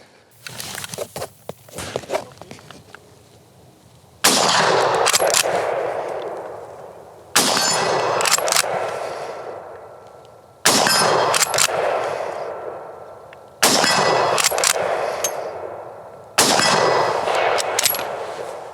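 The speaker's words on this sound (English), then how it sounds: "So, Ross rifle, 303, got 5 rounds, probably the last 5 rounds in Canada of 303, honestly." A Canadian WW1-era Ross rifle chambered in .303 fires five sharp, loud outdoor shots spaced about three seconds apart, each with a long echoing decay, preceded by metallic bolt and handling clicks.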